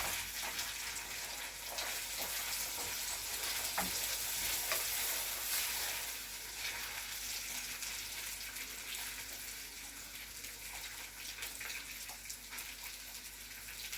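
Meatballs fry in a pan with onion, giving a steady, fairly quiet sizzle and crackle that runs the whole time, with a few soft stirring knocks and no voices.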